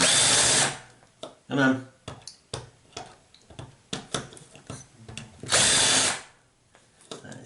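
Power drill boring out a rivet on a Zanussi washing machine door latch, two loud sustained bursts of drilling, one at the start and one near the end, with a brief speaking voice and scattered clicks and taps between them.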